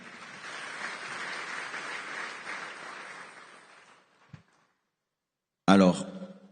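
Church congregation applauding after a sermon, a steady wash of clapping for about four seconds that fades out, followed by a brief thump and then a sudden loud voice.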